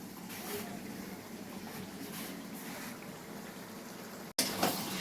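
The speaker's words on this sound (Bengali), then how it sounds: "এবার চিকেনটা দিয়েছি, ঠিক আছে, ম্যারিনেট করা চিকেনটা দিয়েছি।" Marinated chicken added to a large kadai of fried onions sizzles steadily and close up, a dense continuous hiss that cuts out briefly near the end before bursting back louder.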